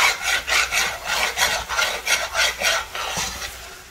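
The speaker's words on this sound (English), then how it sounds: "I'll come back over here and stir this." Salt fish rundown being stirred in a pot with a spoon, a steady rhythmic scraping rasp repeating about twice a second, close and fairly loud, with no talking.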